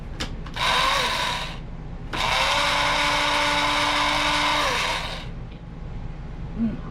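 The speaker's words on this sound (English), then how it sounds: "Going to put the lid on, going to grind it up." An electric grinder with its lid on whirs loudly through dried rosemary, thyme, cayenne and cloves in an RV kitchen, running in two bursts, a short one followed by a longer steady grind that winds down.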